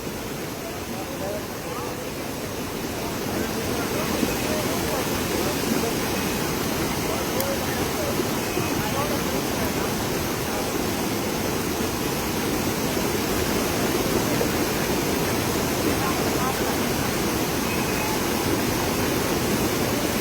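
Floodwater rushes over a bridge during extremely heavy rain, a dense, roaring wash that holds steady and grows a little louder after the opening seconds.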